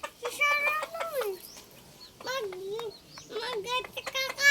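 Chickens kept by young twins give short clucking calls in bursts with pauses between, fairly close, mixed with children's voices.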